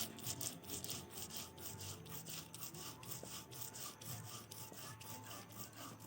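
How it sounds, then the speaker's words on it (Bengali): White mustard seeds and poppy seeds are ground together with a little water on a grinding stone in a Bengali kitchen, giving a steady, rhythmic, gritty rubbing that continues without a break, moderately close. "দেখো সাদা সর্ষেটা আর পোস্তটা একসঙ্গে বেটে নিচ্ছি"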